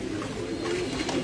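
Pigeons cooing at a pigeon farm in Mirpur, Dhaka, a continuous low murmur of several birds close by, no speech.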